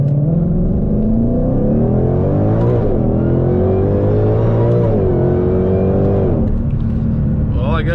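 A 2020 Ford Shelby GT500 engine revs loud and close during a launch attempt, rising and dipping in pitch with a deep rumbling tone throughout.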